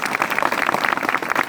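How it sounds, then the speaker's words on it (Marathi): A short burst of dense clapping from a lecture audience cheering the women present, with rapid overlapping claps at a steady, fairly loud level. "सगळ्या ताईंचं जोरदार टाळ्या वाजवून कौतुक आहे"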